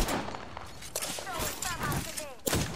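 Rapid bursts of gunfire ring out in a video game, clustered shots with sharp cracks and impacts, heard under excited player chatter.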